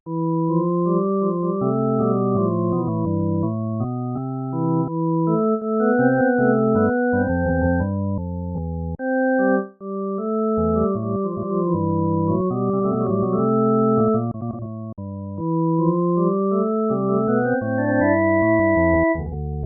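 Two voices play a Bach canon at the third on a Christmas melody, interweaving lines moving together in a steady, continuous flow of sustained tones, clean and alone without talk.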